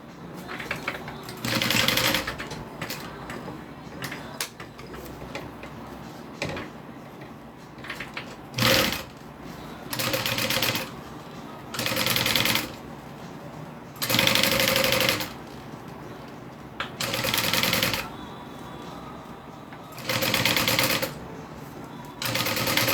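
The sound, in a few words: sewing machine stitching folded fabric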